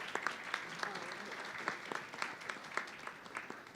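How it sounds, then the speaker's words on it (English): A fairly quiet round of applause at a student success forum, scattered sharp claps from a modest audience heard at a distance with a soft room murmur underneath. "Let's give a round of applause for our student voices."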